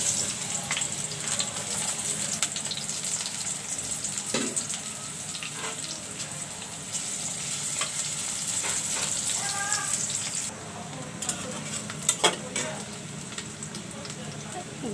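Onions fry in hot oil in a pan with a few pieces of bay leaf, giving a steady close sizzle with occasional stirring clinks and soft knocks throughout.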